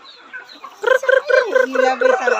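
Native chickens cluck close by on a farm in quick, repeated bursts, a rhythmic run of clucks that builds and continues to the end.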